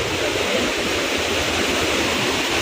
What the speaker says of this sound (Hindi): इस तरफ झरने भी हैं, जो देख सकते हो, झरने का नज़ारा मज़ा ले सकते हो आप लोग